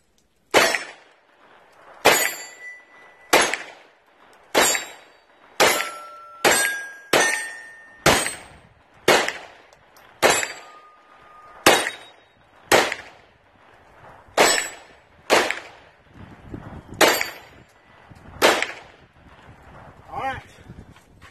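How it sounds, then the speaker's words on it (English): Taurus TX22 .22 pistol rounds striking steel targets at an outdoor range, about fifteen sharp ringing clangs spaced a second or so apart, each with a bright metallic ping and short decay, loud and clear. "First round, I only had to shoot at a couple of them twice to hit them"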